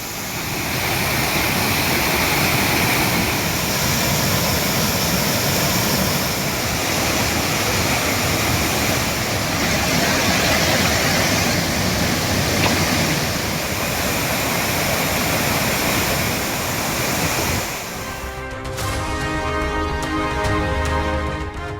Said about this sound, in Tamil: கன்னியாகுமரி மாவட்டம் திருப்பரப்பில் ஆக்ரோஷம் குறையாமல் ஆர்ப்பரிக்கும் அருவி.